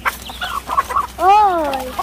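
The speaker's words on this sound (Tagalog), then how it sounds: "Nagkakagulo yung mga manok." Chickens on a farm squawk and cluck in an agitated commotion, short choppy calls giving way to a loud, drawn-out rising-and-falling squawk close by.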